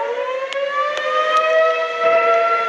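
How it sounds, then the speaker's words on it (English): A 2001-130 tornado siren sounds near a gas station, a loud steady wailing tone held throughout, close and alone. "This 2001-130 siren here is the infamous tornado siren that's right next to it."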